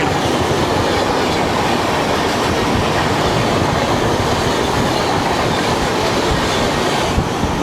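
A Day Express passenger train passes close by on the rails, a loud, continuous roar of wheels with rhythmic clickety-clack and faint squealing, steady throughout with no voices.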